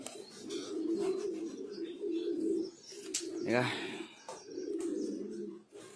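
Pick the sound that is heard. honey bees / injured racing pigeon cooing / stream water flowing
injured racing pigeon cooing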